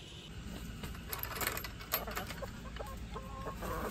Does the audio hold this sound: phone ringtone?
no